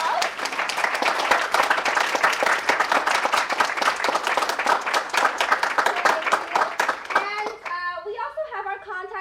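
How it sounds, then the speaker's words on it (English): A conference audience breaks into a round of applause after the presentations, dense steady clapping from many hands that thins into a few scattered claps, with voices rising briefly near the end. "I think we should all give everybody a round of applause."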